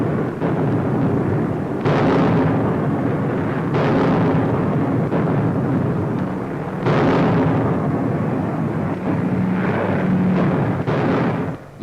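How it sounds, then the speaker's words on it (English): Anti-aircraft flak bursts in a 1944 WWII newsreel over the enemy coast. Several loud, booming explosions arrive every few seconds, each with a rumbling tail over a constant droning roar. "they're over the enemy coast, driving into a flak-filled sky."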